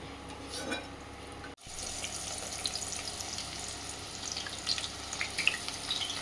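Onion frying for biryani gives a soft, steady sizzle with faint crackles and watery bubbling. One sharp dropout cuts through early, then the quiet frying continues evenly.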